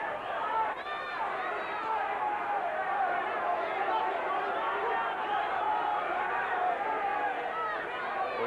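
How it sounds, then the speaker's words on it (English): A boxing crowd at a Lake Tahoe fight between Tony Lopez and Tyrone Jackson roars steadily in a dense, continuous wash of voices, with rhythmic chanting blended into the noise throughout. "the chant of Tony from the crowd here in Lake Tahoe"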